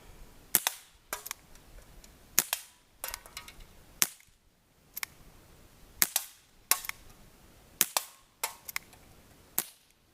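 Crosman SNR 357 air pistol firing repeatedly outdoors, about a dozen sharp cracking shots spaced at uneven short intervals, loud and close with no talking.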